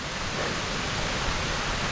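Glencar Waterfall in Ireland, a steady broad rushing roar of falling water, continuous and even over a short span with no voices.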